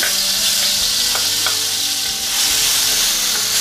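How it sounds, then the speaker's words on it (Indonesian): Black soybeans fry in hot oil in a pan, a loud continuous sizzle and crackle with occasional stirring scrapes, close up and without any voices. "setelah minyak panas lalu goreng kedelai hitam atau tumis bumbu kedelai hitam"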